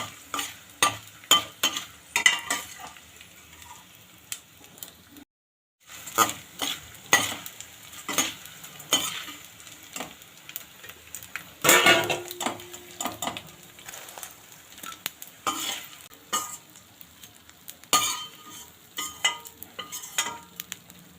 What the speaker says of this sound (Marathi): तुम्ही बघू शकता किती छान आहे डिंक हे छान तळला गेला